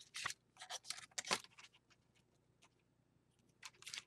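Scissors snip along the edges of duct tape on handles, a quiet run of short, crisp cuts in quick clusters, then a pause and a final few snips close by, with no one speaking.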